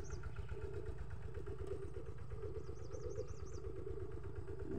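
A two-wheel walk-behind tractor plows a rice field in Thailand at dawn, its small engine thumping in a steady, close, continuous chug with a faint rattle and no talk.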